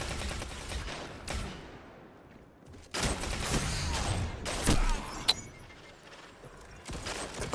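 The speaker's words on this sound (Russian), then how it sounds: "Он с дробаша так стреляет." A shotgun fires in the shooter game Destiny 2. Several sharp, punchy blasts come at irregular intervals over quieter game noise and mechanical clatter.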